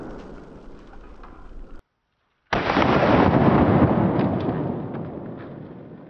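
A Kriss Vector pistol fires at targets outdoors, including a paint can. Loud, dense blasts of noise fill the clip, broken by a brief complete dropout before a heavier sustained roar resumes.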